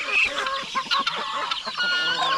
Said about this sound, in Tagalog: Yung mga manok natin na andon, lalo na yung mga lalaki